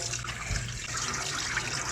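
Water runs and splashes steadily from a tap as salted fish is rinsed in a kitchen sink for Salvadoran-style ceviche, with no talking.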